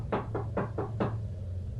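Four evenly spaced, fairly close knocks rap on an apartment door in a narrated Spanish horror story, then fall silent over a low steady hum.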